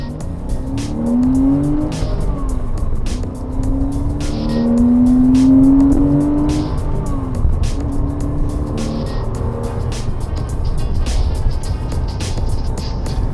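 A Porsche Cayman lapping the Goodwood track, its engine droning loud and steady as revs rise and fall through gear changes, with a long rising pull in the middle and constant wind and road roar.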